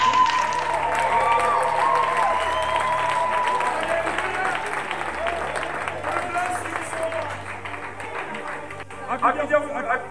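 A church congregation claps during a sermon with rhythmic, sustained applause, accompanied by keyboard and crowd noise. A preacher speaks throughout.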